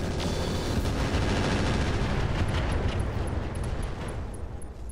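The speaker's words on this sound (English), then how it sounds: "Fire the last 50 incendiary and some more EMP." Incendiary and EMP weapons fire in the mech combat game Roguetech, a dense, continuous roar of explosive gunfire and blasts that stays loud throughout and tapers slightly near the end.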